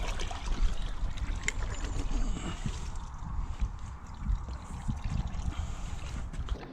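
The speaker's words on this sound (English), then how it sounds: "This switch turns on the pump, which pumps the water out" Water pumped from a well through a rigged system of greenhouse pipes trickles and splashes steadily, a continuous low gushing flow close by with faint voices underneath.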